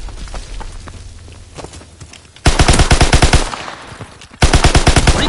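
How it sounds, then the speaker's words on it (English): Rapid machine gun fire in a WW2 video game: two loud, close bursts of evenly spaced shots, the first longer, following quieter footsteps and background clatter. "Fire in the hole! We have tactical advantage! Keep firing!"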